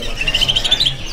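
A black-billed green leafbird sings at a bird market kiosk in Pramuka, a close, clear run of quick, bright high chirps over a low murmur of background noise.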